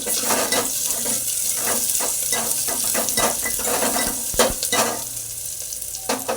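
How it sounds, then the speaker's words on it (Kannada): Onion, garlic and curry leaves are stirred in a hot pan, sizzling steadily while a spoon scrapes and clinks against the metal in an uneven rhythm, close and without talk. "ಕರಿಬೇವು ನೀಟಾಗಿ ಮಿಕ್ಸ್ ಮಾಡಿ"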